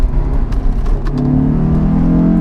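A Honda S2000 sports car engine revs up close, its pitch climbing steadily as it accelerates hard, loud and alone.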